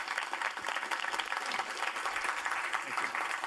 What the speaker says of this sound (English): Let's give a round of applause for Jim.